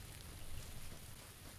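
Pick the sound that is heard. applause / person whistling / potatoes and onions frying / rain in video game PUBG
rain in video game PUBG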